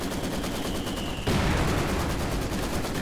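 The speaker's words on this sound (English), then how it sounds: "Got machine gun line behind that." Dense machine gun and mixed gunfire from a Company of Heroes 2 battle, a steady crackling barrage that swells louder partway through and keeps rolling without pause.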